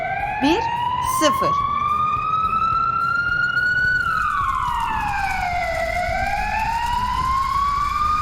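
A loud fire engine siren wails, rising and falling in long sweeps, continuous and close, with a couple of brief voiced chirps early on.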